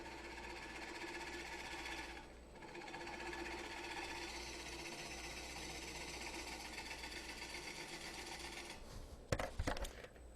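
A wood lathe spinning a bowl blank at around 500 RPM while a 5/8 inch bowl gouge faces it off, a steady mechanical whir with constant scraping, ending in a short cluster of sharper clatters.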